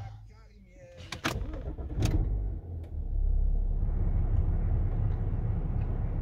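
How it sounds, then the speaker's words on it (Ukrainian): A BMW X5 engine cranks and starts, followed by a steady low idle rumble, with a couple of sharp clicks beforehand and a person speaking at the start. "А зараз ми заведемо машину."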